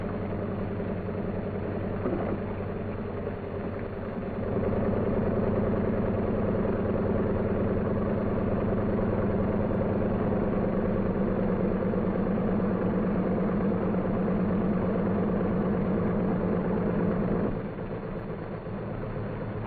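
Military troop carrier airplane engines idle at 1,000 RPM to cool down, a steady low rumbling drone that swells slightly louder after a few seconds and holds even before easing near the end.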